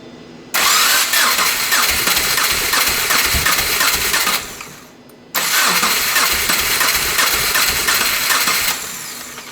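A Subaru Crosstrek engine with its back two cylinders unfueled cranks and catches, running loud and rough up close, then dies and starts again for a second rough run.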